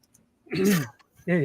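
A throat clearing, a couple of harsh voiced rasps close to the mic, separated by a brief pause.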